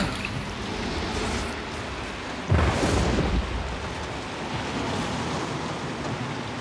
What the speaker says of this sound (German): Oh, der Regen legt aber jetzt los, du.